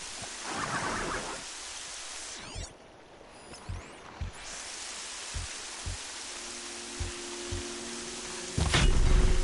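Steady rain hiss in the video game Horizon Zero Dawn fills the scene, with soft periodic thumps beneath it and a louder rumble swelling at the very end.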